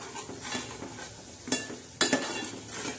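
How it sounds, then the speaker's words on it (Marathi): Masala with red chilli powder roasting and frying in a pan, heard as a soft steady sizzle stirred with a utensil, with two sharper scraping clinks standing out, close and fairly quiet, and no one talking. "छान असा खमंग असा भाजून तळून घेणार आहोत चांगला"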